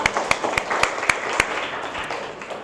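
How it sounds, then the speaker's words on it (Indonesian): An audience applauds a presenting group in a classroom with a short burst of claps, including several sharp individual claps, fading out over a few seconds. "silakan beri aplaus untuk kelompok Bintoro"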